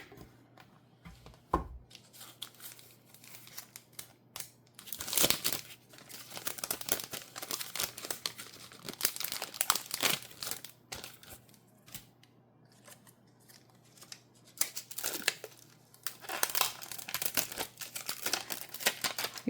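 Plastic packaging of Hero Arts Ghoul Things clear stamps is crinkled and torn open, with sharp crackles and rustling bursts in irregular spurts between short quiet gaps, close up and with no talk.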